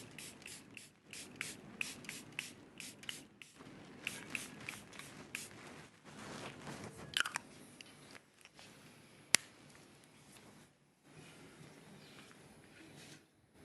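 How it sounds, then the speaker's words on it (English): Charlotte Tilbury makeup finishing spray hisses in a series of short, quiet bursts in quick succession, close to the microphone, with brief pauses between them. "I'm using the Charlotte Tilbury finishing spray"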